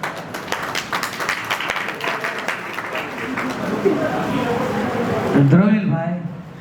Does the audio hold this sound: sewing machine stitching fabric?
no